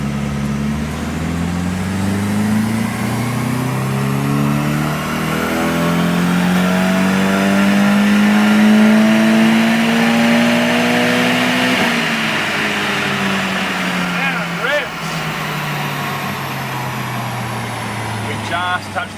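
Turbocharged Nissan 180SX engine at full throttle on a dyno, running at 12 pounds of boost, a loud continuous rising rev that climbs steadily, peaks and then drops off, with a voice audible beneath.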